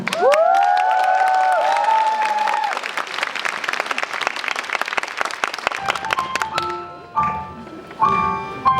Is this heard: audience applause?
yes